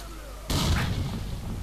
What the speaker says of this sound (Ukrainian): Кидаємо гранату.